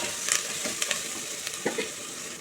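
Chicken curry ingredients with coriander fry lightly in a pan, a steady close sizzle with a few soft stirring scrapes, no voices.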